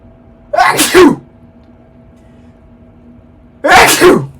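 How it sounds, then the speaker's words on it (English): Two loud sneezes, the first around half a second in and the second about three seconds later, with quiet room hum between them. "Excuse me, hold on, I gotta sneeze."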